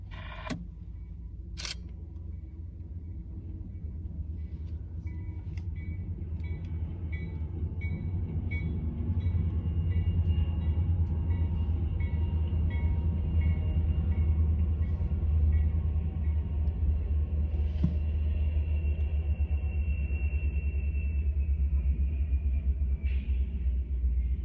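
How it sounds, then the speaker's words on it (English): Freight train Q635 with SD40-2 locomotives passing near Selkirk rail yard, a deep continuous rumble and rolling clatter of wagons close by, with faint crossing bells and a brief horn note in the background. "the crossings went down, and Q635 passed by with a SD40-2 third out of 3"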